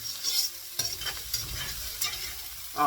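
Onions and potatoes fry in a pan while someone stirs them, giving a steady close sizzle with a few scraping stirs and a louder burst at the end, and no voices.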